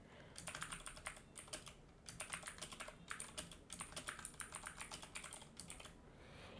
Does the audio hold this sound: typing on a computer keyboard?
yes